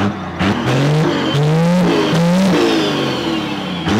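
An 800hp compound-turbo second-generation Cummins diesel pickup engine revs loudly and repeatedly, pitch climbing and dropping with each manual shift as it accelerates close by.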